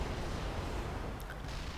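A Yamato cannon firing in StarCraft II, a dense, sustained roar of low rumbling blast noise filling the whole moment, loud and steady with no talking.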